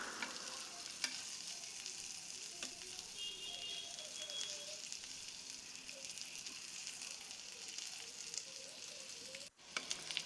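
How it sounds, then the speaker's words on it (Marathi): Egg patties sizzle steadily in hot oil on the second side as they fry for a New Year's party snack, with a continuous crackling hiss and a brief scrape or clunk near the end. "दुसरी साइड पलटून घेऊन दुसऱ्या साइडला सुद्धा भाजून घ्या."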